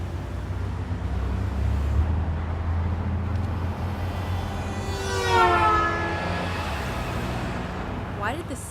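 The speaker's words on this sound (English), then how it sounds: "Why did the sound change as that car drove by?" A vehicle approaches and passes close by, its engine tone sweeping from high to low as it goes, over a steady background rumble.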